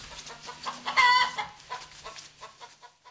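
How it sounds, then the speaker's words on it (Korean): Chickens cluck near a straw pile on a farm, a few short clucks and one louder squawk in the middle, moderately close amid quiet rustling. "혹시 이참에 닭이라도 잡으려는 걸까?"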